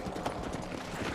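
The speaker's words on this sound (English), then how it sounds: "I whistled for a horse, and when it came near" Quick, quiet clip-clop of horse hooves in the video game Red Dead Redemption, a brief rapid patter of hoofbeats at a trot or gallop with no voices over it.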